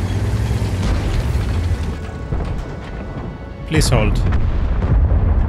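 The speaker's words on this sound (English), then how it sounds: "There's a lot of exploding going on around here." Heavy booming explosions rumble through a World of Tanks battle, with one sharp loud blast near the end, while someone talks over the gunfire.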